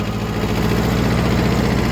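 A Kubota B5001 small tractor's engine runs at close range with a steady, even diesel chug and throbbing low vibration, alone and unbroken.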